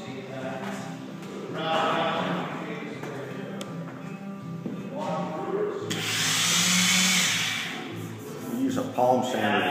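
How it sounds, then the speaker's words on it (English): A palm sander works over a wooden stair railing, buzzing steadily with rising and falling intensity while a person talks intermittently over it. "Use a palm sander to sand this on down."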